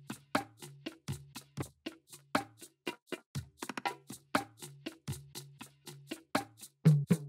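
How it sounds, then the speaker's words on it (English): Lofi beat percussion including calabash: a busy loop of dry, woody taps and knocks in a steady groove, with a low sustained tone pulsing beneath and a brief quick flurry of hits midway. "So all of my percussion together would sound like this."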